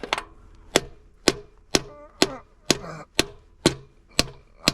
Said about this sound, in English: maybe a lighter hammer would be better